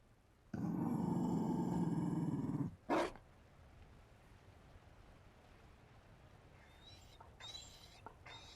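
A Mabari war dog in Dragon Age Inquisition lets out a loud, sustained growl for about two seconds, followed by one sharp bark-like burst. Afterwards a quiet ambient background remains, with faint chirps near the end.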